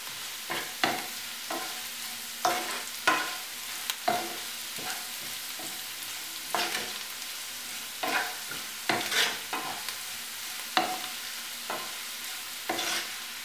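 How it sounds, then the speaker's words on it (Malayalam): Carrot and cabbage stir-frying in a pan, with a soft continuous sizzle broken by sharp, irregular scrapes of a spatula turning the vegetables, heard close up with no talking. "ക്യാരറ്റും ക്യാബേജും വഴന്നിട്ടുണ്ട്."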